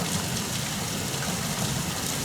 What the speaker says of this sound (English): A very big roar can be heard in the bathroom where it's thundering down outside